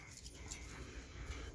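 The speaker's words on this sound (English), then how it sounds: "Hey, puppies. Look at you guys." Puppies whimpering faintly, soft breathy whines and pants in a short low-level stretch with no talk.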